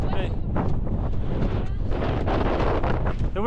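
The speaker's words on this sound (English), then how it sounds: "The wind's coming from the north" Strong wind gusts over a mountain summit in Snowdonia around 950 metres up, buffeting the microphone with a loud, continuous roar, and faint voices are heard beneath it.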